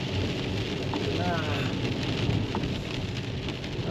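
Steady rain falls outdoors around a rural home, a dense continuous patter with occasional louder drops, close and even throughout, with no talk over it.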